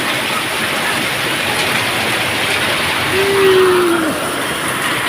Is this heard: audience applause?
no